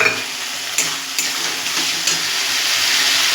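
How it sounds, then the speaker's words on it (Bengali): Soybean masala sautéed with sugar in a kadai pan, a loud continuous sizzle with a few sharp scrapes and clinks of the spatula stirring. "চিনি দিয়ে এটাকে আমি ভালো করে আরেকটু কষিয়ে নেব"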